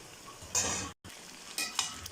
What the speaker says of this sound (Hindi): चिकन का कलर जो है वो गोल्डन होने तक हम इसे फ्राई कर लेंगे।